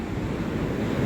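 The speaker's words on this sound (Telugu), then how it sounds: "వాటర్ అయితే వదులుతున్నారు కింద, అయితే వాటర్ అయితే వదులుతున్నారు." Water released through the open gates of the Sadarmatt barrage rushes in a steady, dense roar, continuous and loud with no talking over it.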